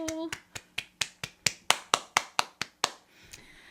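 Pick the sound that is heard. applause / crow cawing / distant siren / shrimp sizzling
applause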